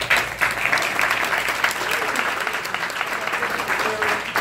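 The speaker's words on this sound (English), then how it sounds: "Let's give them a big round of applause" A crowd at a Chicago business event gives a big round of applause for the company's leadership, a loud sustained roar of clapping that holds steady throughout.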